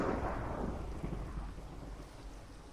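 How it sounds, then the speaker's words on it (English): Rumbling thunder rolls through a Minecraft thunderstorm, a loud low boom at the start that slowly fades into a steady wash of rain. "Sounds like just in time for a thunderstorm"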